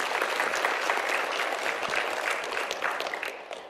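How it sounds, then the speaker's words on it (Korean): Audience applause at a televised forum with the National Assembly speaker, steady full clapping from a large hall crowd that carries throughout and tapers slightly at the end. "김진표 국회의장님께 다시 한번 큰 박수 부탁드립니다."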